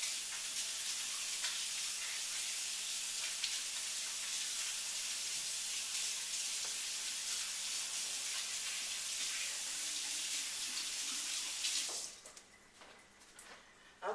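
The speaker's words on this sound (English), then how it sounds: "I'm going to step aside and rinse my hands off for just a minute" Tap water runs steadily into a kitchen sink as hands are rinsed, a constant close hiss lasting about twelve seconds before cutting off abruptly.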